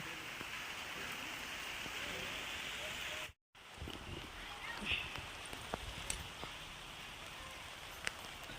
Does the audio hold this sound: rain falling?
yes